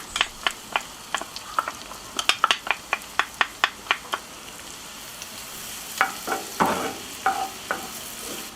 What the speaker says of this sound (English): So we're going to melt some butter. And we're going to fry the red onion and the garlic quickly.